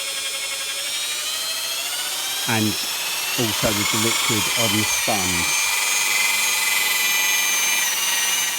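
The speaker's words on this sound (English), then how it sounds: "now I'm buffing it out with an electric drill" A high, steady whine of an electric drill buffing a car headlight runs throughout, close and loud, while someone speaks briefly over it.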